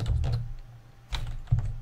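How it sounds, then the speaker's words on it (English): Several quick clicks of computer keys as an expression is typed, arriving in two short bursts separated by a pause, close and clear with no talking. "And then you can type your expression"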